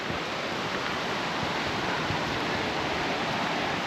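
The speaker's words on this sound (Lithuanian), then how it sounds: "Ir upeliukas krenta nuo uolų." A mountain stream tumbles over the rocks of the Partnach gorge near Garmisch, making a continuous, even rushing roar that stays close and unbroken from start to finish.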